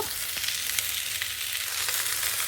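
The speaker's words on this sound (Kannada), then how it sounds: "ನೆಕ್ಸ್ಟ್ ಗೋರಿಕಾಯಿ ಹಾಕಿ ಚೆನ್ನಾಗಿ ಫ್ರೈ ಮಾಡಬೇಕು" Cluster beans frying in a pan for a masala gravy, a steady dense sizzle and hiss that runs evenly and fairly loud throughout with no voices over it.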